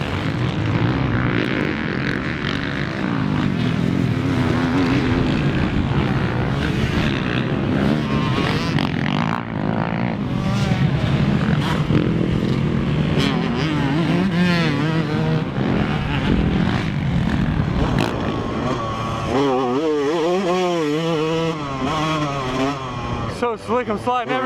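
Yamaha YZ125 two-stroke motocross bikes race at a vintage motocross club event, engines buzzing and revving loudly and continuously, climbing and falling with gear changes and passing bikes, while people talk over the racing.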